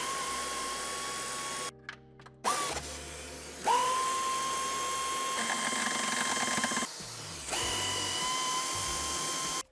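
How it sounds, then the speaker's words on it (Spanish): Power tool whirring in short bursts to remove nuts inside the rear of a 2017-2020 Mercedes-Benz E-Class T213 All-Terrain during a towbar fitting, several stop-start runs with a steady whine, close and loud. "Ya en la parte interior quitaremos también las 4 tuercas"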